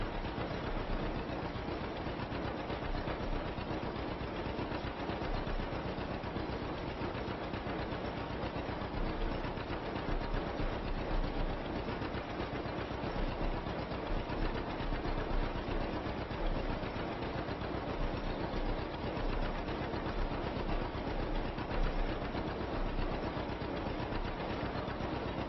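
A tractor engine in the video game Farming Simulator 25 drones steadily and evenly throughout, a constant mechanical rumble during straw baling and hay making, with no talk.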